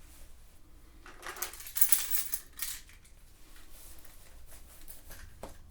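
Keys clink and jingle as they are pushed into a pants pocket alongside a lock wallet, a soft metallic rustle with a brighter jangle in the middle, fairly quiet and close.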